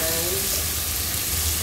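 Small-cut chicken breast frying in a pan, a loud close continuous sizzle throughout a short moment.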